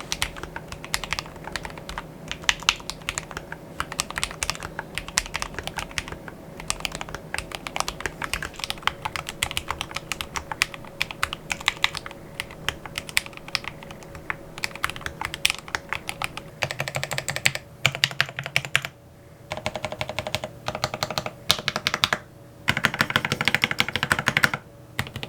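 Someone types on a Glorious GMMK Pro custom mechanical keyboard, producing a long, quick, continuous patter of crisp key clacks at close range, with brief pauses and no speech.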